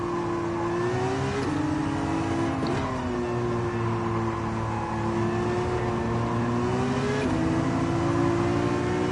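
Nissan Skyline race car in Gran Turismo 7 holding a steady, loud engine drone, its pitch dipping and climbing through gear changes around three and seven seconds, with no voices over it.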